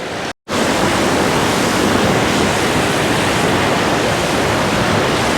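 A large waterfall roars loudly and close at a riverside stop on a road trip through North Kerala and Coorg, a dense, unbroken rush of falling water with a brief dropout near the start.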